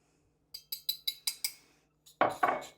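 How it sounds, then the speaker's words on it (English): Dry sugar, all-purpose flour, cinnamon and nutmeg are mixed together in a bowl for an apple crisp topping, heard as a run of about six quick, close utensil clinks and taps against the bowl, then a couple of louder scraping knocks. "And you just want to mix that up so that it's all combined."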